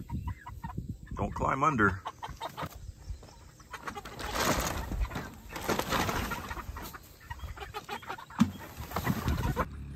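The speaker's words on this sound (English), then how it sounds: "They're about to go in with the other chickens." Chickens in a barn pen cluck and squawk in scattered bursts, some close and some farther off, with people talking briefly in between.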